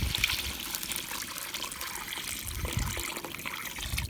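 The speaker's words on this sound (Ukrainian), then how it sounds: "я зараз вливаю воду" Water, about six litres, pours and trickles steadily into a cooking pot of stewing meat for borscht, a soft continuous splashing at close range with no voices.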